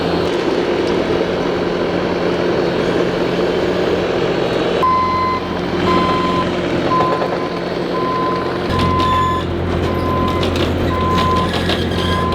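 A truck reverses to position an Airstream trailer at a museum. A low engine rumble runs throughout, and from about midway a steady series of loud, evenly spaced reversing beeps sounds nearby.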